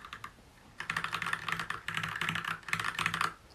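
Rapid, steady typing on a mechanical keyboard fitted with GMK Oblivion keycaps: close, crisp clacking keystrokes in quick bursts with a brief pause near the start, no voices.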